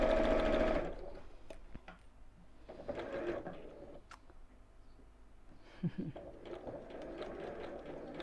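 A sewing machine stitches down the two long sides of a drawstring pajama bag, running in uneven bursts with brief pauses and small clicks, close and steady.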